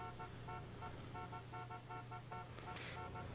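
A car horn in a video game gives a series of short, evenly spaced honks against a low engine hum, followed by a brief brighter burst near the end, with no talking.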